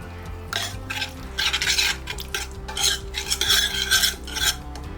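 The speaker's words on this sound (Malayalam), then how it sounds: "ആദ്യം കുറച്ച് മസാലയുടെ ഗ്രേവി പാത്രത്തിൽ പരത്തുക." Masala gravy scraped and spread in a heavy biryani pot, a run of close scraping and stirring strokes against the metal over a low rhythmic background hum, no voices.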